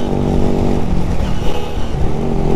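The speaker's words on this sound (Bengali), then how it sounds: "এই বাইকের সবচেয়ে মজার বিষয় হচ্ছে এই বাইকের এক্সস্টের সাউন্ড" Exhaust of a classic Honda CD 200 Roadmaster motorcycle rumbling steadily and loudly up close, a continuous low throbbing engine note with no talk.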